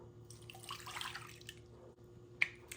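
Warm water flows from a tap into a bowl while pizza dough is prepared, a soft, faint splashing rush for about a second, then a few light drips and a small clink.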